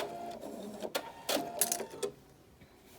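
A sewing machine runs a few short back-and-forth back stitches on a six-panel welding cap, delivered as brief, close mechanical bursts separated by quiet pauses.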